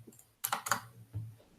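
A few quick keystrokes on a computer keyboard during a collaborative code review session: a brief cluster of crisp clicks followed by one softer tap, close and alone.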